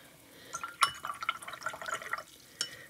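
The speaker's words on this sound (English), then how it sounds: "Rinse off my brush and let's activate that yellow." A paintbrush is swished and rinsed in a water cup while painting with Derwent Inktense pencils: close, light sloshing and dripping with a few glassy clinks, one sharp knock near the start and another near the end.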